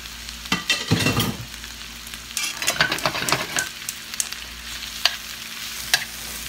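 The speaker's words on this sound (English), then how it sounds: "We're gonna start frying the chorizo." Chorizo sizzles steadily in a hot pan of oil with chilies and onions, with close stirring and scraping strokes over the continuous frying hiss.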